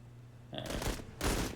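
Video game gunfire in Menace, bursting in as loud rapid volleys of automatic shots after a quiet start, with a short gap between the two bursts.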